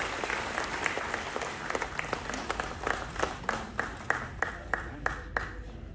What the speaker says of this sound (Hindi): जोरदार तालियां मेहमान खुसूसी के लिए